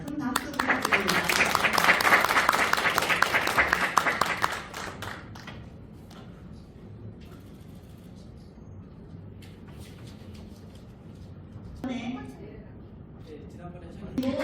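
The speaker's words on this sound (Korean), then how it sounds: "큰 박수 부탁드립니다." Audience applause after a signing ceremony at a founding seminar, a dense loud wave of clapping that fades out after about four seconds into quiet room noise with brief voices.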